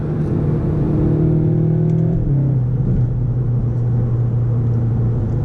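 A 2019 Seat Leon Cupra engine pulls hard and steadily in second gear from 40, its droning note climbing in pitch, then a quick DSG gear change drops the revs before it keeps building.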